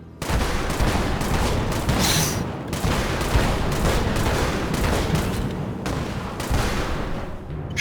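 Dense, continuous volleys of gunfire during a shooting test in a war video game, loud and sustained with rapid overlapping shots and no letup.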